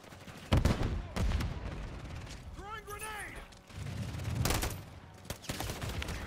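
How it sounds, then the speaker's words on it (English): Gunfire from a first-person shooter video game, with bursts of rapid shots and sharp single cracks under steady talking, mixed with game sound effects. "I keep shooting my own teammates though"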